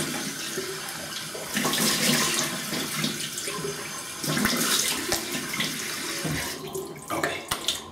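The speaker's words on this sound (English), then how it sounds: "Wait a minute. Let me rinse." Tap water runs steadily into a bathroom sink while a razor is rinsed after wet shaving with a Rockwell 6S, the flow splashing and shifting in bursts with no talking.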